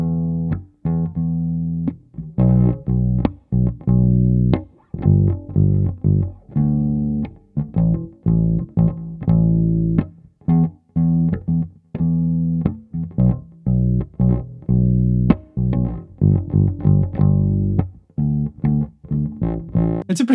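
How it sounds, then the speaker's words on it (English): A Mexican Fender P-Bass Deluxe electric bass plays a funky, plucked line alone, with short, punchy notes in a bouncing rhythm, clear and close with a warm rounded tone. "My Mexican Fender P-Bass Deluxe"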